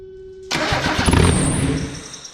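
Mazda Miata 1.8L engine cranking over without firing, a loud, steady starter churn that begins abruptly and holds close by before easing off slightly.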